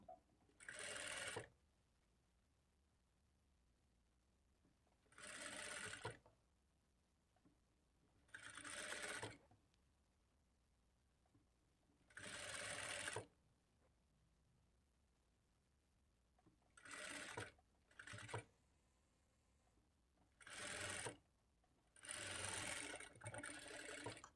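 A sewing machine runs a loose stitch along the back piece of a blouse in repeated short bursts of about a second each, close and fairly loud, with quiet pauses between runs.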